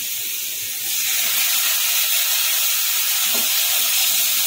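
Masala paste of turmeric and Kashmiri chilli powder frying in a little oil with a splash of water, giving a loud, steady steamy hiss that carries on without pause, with no talking.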